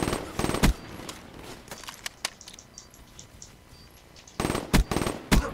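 Gunfire in Black Ops 3 comes as short bursts of sharp, loud shots near the start and again near the end, with a quieter stretch of faint game noise in between.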